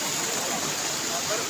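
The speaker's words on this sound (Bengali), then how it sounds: "পাহাড়ের মাঝখান দিয়ে, পাথরের মাঝখান দিয়ে জলগুলো আস্তে আস্তে নিচে চলে আসছে" Water trickles down between rocks at Panchalingeswar temple in Odisha, a steady, close, broadband rushing hiss that runs without a break.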